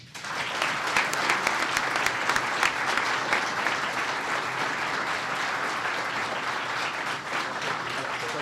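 An audience applauds Detective Reston at a Medal of Valor ceremony, with dense, sustained clapping that fills the room and holds steady throughout.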